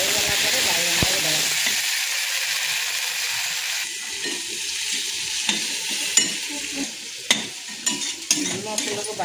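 Onions and neem flowers fry in a pan with a steady close sizzle, broken by stirring scrapes and a few sharp clinks of a utensil toward the end.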